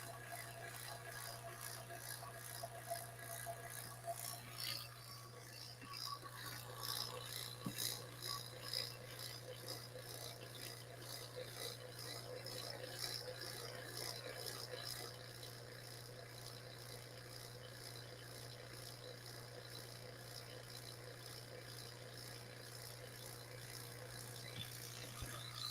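A laboratory vacuum pump runs continuously with a steady low mechanical hum, a faint rattling whir layered above it, moderately close and unchanging throughout.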